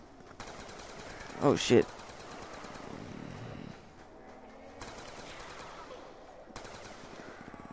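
Gunfire in Call of Duty Black Ops 2, a couple of sharp loud shots followed by quieter bursts and rattling, with a voice briefly over the game sounds.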